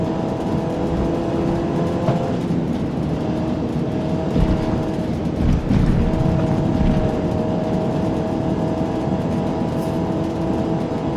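Race cars in Forza Motorsport 8, a career-mode event, roar steadily and loudly throughout, engines droning and revving with a brief surge near the middle, no talk over them.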